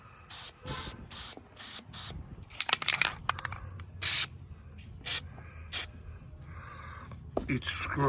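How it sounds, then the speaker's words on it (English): Short bursts of aerosol lithium grease sprayed onto hood and trunk strut screws of a 2006 Pontiac GTO, about eight quick hissing sprays in a row, close and loud, with some handling noise between them. "I'm gonna take lithium grease and I'm just gonna spray just a little"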